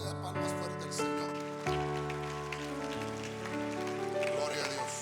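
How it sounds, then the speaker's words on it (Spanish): A church congregation claps loudly in a dense, rain-like patter of many hands that runs the whole time, layered over sustained organ or keyboard tones. "Usted le da palmas fuerte al Señor"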